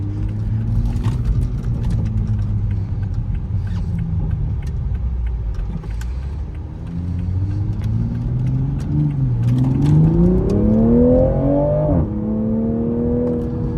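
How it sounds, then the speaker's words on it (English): A 2022 Toyota GR Supra 3.0 with its B58 engine in sport mode revs and pulls hard under acceleration, the note rising and falling with gear changes, loud and close from inside the car. "You can hear those little crackles"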